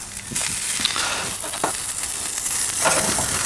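Fish browning in butter on a gas grill sizzles and hisses steadily, with bursts of crackling spatter from the flaring butter and a few soft clinks, close and continuous.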